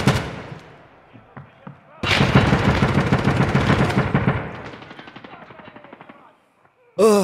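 Escape From Tarkov Arena gameplay with AK rifle fire: a sustained, loud automatic burst of rapid shots, then a tapering string of single rounds, with isolated sharp shots before and after.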